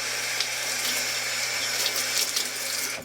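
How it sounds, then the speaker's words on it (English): Tap water runs steadily into a kitchen sink as fingers are rinsed under the stream, a soft, even splashing rush that holds for a few seconds and then cuts off abruptly at the end. "Rinse my fingers off a little bit."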